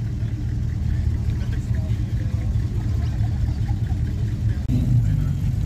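A Ford Gran Torino rumbles past at a large outdoor car rally, a low engine drone amid crowd noise, with talk faintly underneath.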